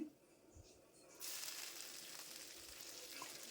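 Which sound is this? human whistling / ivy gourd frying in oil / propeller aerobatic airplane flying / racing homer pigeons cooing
ivy gourd frying in oil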